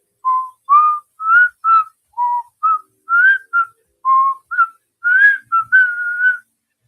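One person whistles the melody of a song alone, a clear, close tune of about a dozen short pitched notes rising and falling in a steady rhythm.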